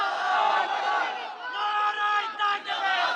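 A crowd of young men at a religious sermon gathering shouts a takbir chant in unison, a loud sustained roar of voices swelling and dipping in waves, with scattered individual shouts.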